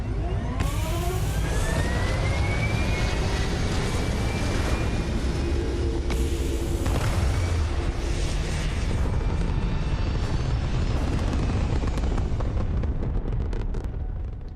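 A stealthy delta-shaped spaceship lifts off in the Starfield video game, a loud continuous engine roar with rising whine tones that swells and holds steady throughout, with no voices.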